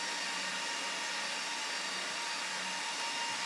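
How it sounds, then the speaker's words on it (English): Cooling fans of a 1U rackmount router whine and rush in a loud, steady, unbroken wash of airflow noise, heard alone with no voices. "you can hear the router right now. It's very noisy."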